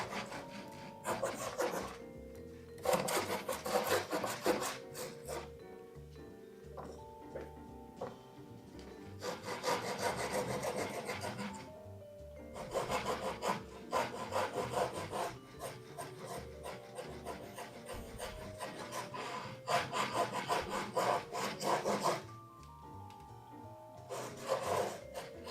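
A hand saw cuts into a wooden kerf in repeated back-and-forth bursts of rasping strokes, separated by short pauses, close and fairly loud.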